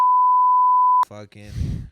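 A loud, steady censor beep, a pure sustained tone lasting about a second, cuts off abruptly and a voice follows, then a burst of laughter or crowd noise.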